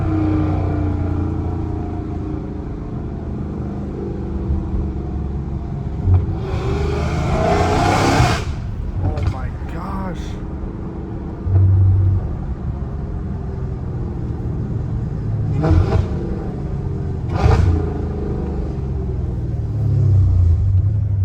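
A Dodge Challenger Hellcat Redeye with its supercharged engine: a low exhaust rumble idles throughout, broken by several sharp revs that bring a rising supercharger whine, close and loud, with no voices.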